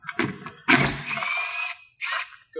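Ratchet wrench removing a T30 bolt from the top of a Ford Bronco roof rack, giving several bursts of rapid clicking with short pauses between them, close and fairly loud.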